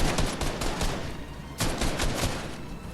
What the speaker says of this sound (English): Oh, someone's firing on me.